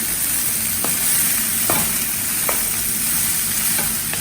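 Tomatoes, peas and other vegetables sizzle steadily in a hot pan over a low flame, with a constant frying hiss broken by a few scraping stirs of a spoon against the pan.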